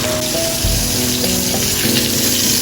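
Tomato and onion sauté in a pan for a mung bean dish, giving a loud, steady sizzle and crackle throughout with a few soft stirring scrapes and no talking.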